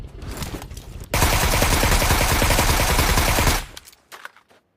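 Sustained burst of automatic gunfire in a battle royale style shooter game, a dense rapid stream lasting over two seconds, loud and close, with scattered shots before and after.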